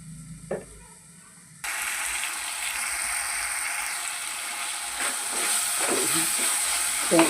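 Large onions sautéing in a pan for an anchovy curry, a quiet start with a faint knock, then a sudden loud hissing sizzle that holds steady with a few scraping stirs near the end.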